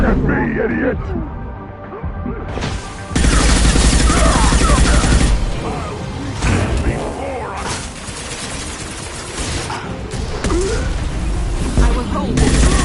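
Gunfire in the video game Mass Effect 2, dense bursts and loud rapid fusillades that start and stop across the scene, mixed with other combat noise and talk.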